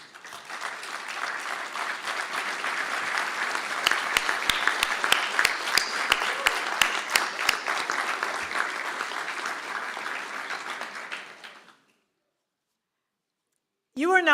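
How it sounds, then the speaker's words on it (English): Graduates at a Galway City conferring ceremony applauding their supporters: a sustained roomful of clapping that swells, holds for about eleven seconds, then dies away into silence before a voice starts speaking. "give them a little round of applause"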